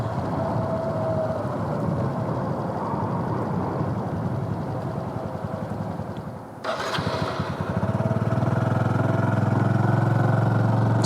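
A Honda Super Cub motorcycle engine putters steadily in second gear, a close, continuous low drone; a brief drop near the midpoint gives way to a louder, fuller idle-like rumble.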